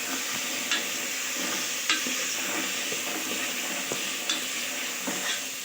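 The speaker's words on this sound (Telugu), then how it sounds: "ఇప్పుడు మంచిగా కలుపుకుందాము." Ivy gourd masala curry is stirred in a sizzling pan, a steady frying hiss with soft scrapes and a few sharp utensil knocks against the pan, fairly quiet with no voices.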